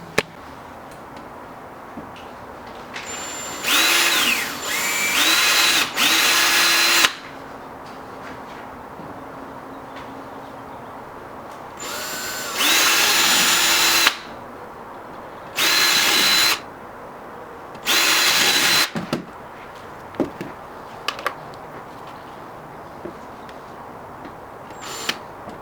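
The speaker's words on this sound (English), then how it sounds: "drilling some small holes at the ends where the cracks stop at the moment" A power drill whirs in several short bursts, drilling small holes at crack ends in a C5 Corvette plastic bumper, pausing between each, over quiet background with occasional clicks.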